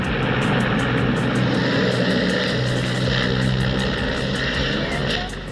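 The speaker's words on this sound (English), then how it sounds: "This helicopter was supposed to deliver the president of Bolivia, Evo Morales, but malfunctioned immediately after takeoff." A helicopter carrying the president of Bolivia malfunctions right after takeoff, its loud, continuous rotor and engine roar close by, with rapid blade chopping throughout and fading slightly at the end.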